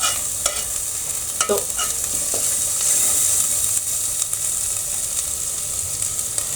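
Beef curry cooked restaurant style sautés in a pan, giving a steady close sizzle broken by repeated scraping stirs of a utensil, with almost no talking.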